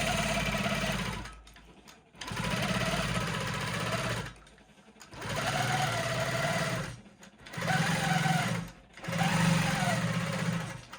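A longarm quilting machine stitches half-inch lines on a quilt-as-you-go project, its steady close mechanical hum running in five spells separated by brief stops, with no one speaking.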